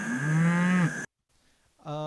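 A single long cow moo from a freesound.org recording, loud and close, lasting about a second before cutting to near silence, then another moo begins at the very end.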